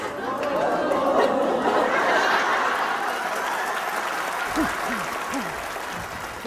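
A large audience at a professional speaker's talk applauds in a dense, steady wash of clapping that stays loud throughout, with a few chuckles and a voice beginning to speak near the end.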